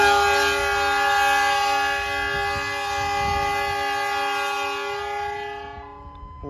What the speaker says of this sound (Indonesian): Persiapan kereta api Ranggajati akan diberangkatkan dari stasiun Pasuruan.